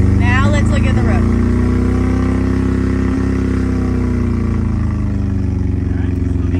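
A manual car's engine hums loud and close with a sustained, fairly steady revving drone as a learner driver feeds it gas, while people talk over it.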